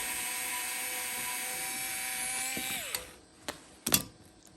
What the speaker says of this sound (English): I really like this screwdriver because you gotta take something out apart.